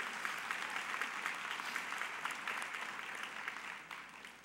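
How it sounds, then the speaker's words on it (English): Audience applause fills a college graduation ceremony at a winter commencement, a dense steady wash of clapping from a large crowd that stays loud throughout and eases slightly near the end. "that deserves an applause"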